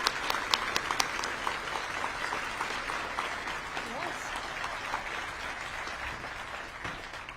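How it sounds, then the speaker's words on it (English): Audience at a small business awards ceremony applauding the nominees, a sustained, even round of clapping from a sizeable room with a few sharper claps early on, continuing steadily throughout. "A huge round of applause for all of our nominees."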